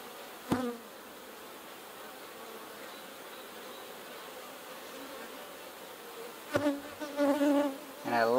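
Honeybees buzz around an open hive being inspected, a faint, even drone in the background with a couple of sharp knocks and closer buzzing passes near the end.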